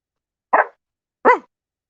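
Nova, a dog, gives two short, sharp barks about half a second apart, close and clear against silence.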